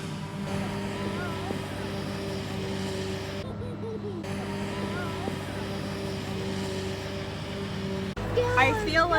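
A forage chopper harvesting in a field, a steady loud mechanical engine drone with tonal whine heard from a vehicle driving alongside, with a person talking over it.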